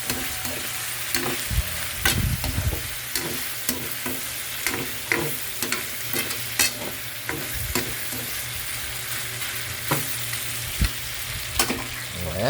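Onions sizzling in a hot pan for tokwa't baboy, a continuous close frying hiss broken by the scrape and clatter of a utensil stirring at irregular intervals, with no talking.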